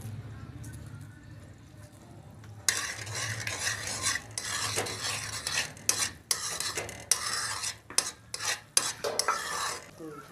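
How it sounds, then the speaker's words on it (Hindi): Eggs fry over low heat in a pan as a utensil stirs and scrapes them, starting with a quiet low hum, then bursts of sizzling and repeated close metallic scraping. "अंडों को हल्की आंच पे अच्छी तरह से फ्राई कर लेंगे।"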